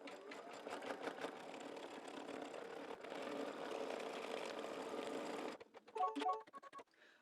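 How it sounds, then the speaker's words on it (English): An embroidery machine stitches the batting placement line for an in-the-hoop mug rug, a steady rapid mechanical whir close by that runs for several seconds, then breaks into short stop-start bursts near the end. "the first stitch is going to be your placement for your batting"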